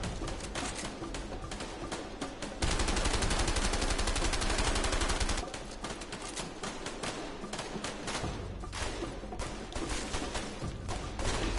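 Gunfire in the video game A Way Out, dense rapid bursts of automatic shots that are loud and close, clustered in heavy stretches with brief gaps between volleys.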